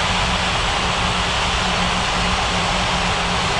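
Airliner landing in a Korean-flagged air traffic control game scene, a steady loud roar of jet engines with broad rushing noise throughout, no talk.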